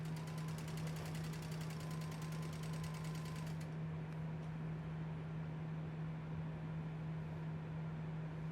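A sewing machine stitches quilt binding strips together, its steady motor hum running unbroken and fairly quiet for the whole stretch, with no voices.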